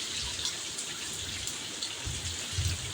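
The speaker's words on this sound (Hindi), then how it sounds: "बारिश बाहर बहुत ज़्यादा स्पीड से हो रही" Heavy rain pours down outdoors in Pakistan, a steady dense hiss of falling drops that holds throughout with no voices.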